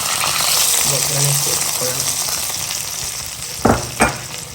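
Mustard seeds, chopped byadgi chilli, green chilli and curry leaves crackling hard in hot oil, a loud continuous sizzle with two sharp utensil knocks near the end.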